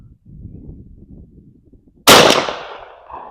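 A single loud shot from a 28 gauge gun firing a .490 round ball at a range booms after a stretch of quiet rustling, then fades over about a second, a hollow thud rather than a sharp crack.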